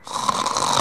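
Loud, close snoring from a man dozing in a courtroom, one long continuous rasping breath with no talking.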